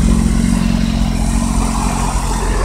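A 2007 Kawasaki ZX-6R motorcycle engine runs loud and steady at high revs near the redline, a continuous close-up drone with a strong low harmonic hum and no talk.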